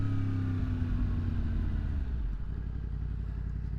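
A 2023 Yamaha MT-10 motorcycle with a Leo Vince decat exhaust pulls hard at speed in third gear, a loud, steady engine roar heard close from the rider's position, its pitch sliding slightly as it runs on without any talk.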